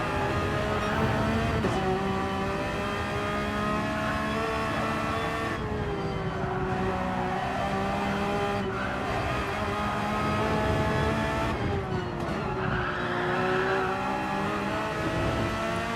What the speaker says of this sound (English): Tyres struggling to grip, you can hear them squealing as they go around these turns.